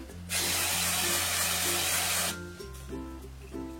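Colorista pastel hair colour spray hisses in one loud, steady burst for about two seconds from close range, then cuts off, leaving faint background hum and small clicks.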